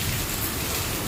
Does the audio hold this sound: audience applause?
no